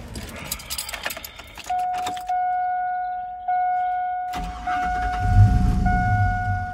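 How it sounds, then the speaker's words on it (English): A 2000 Chevy Silverado pickup, fresh from a fuel filter replacement, is started after a short crank; its engine catches and settles into a loud steady idle near the mic, preceded by jangling keys and a door chime. "It did crank a little bit, but instantly it fired right up"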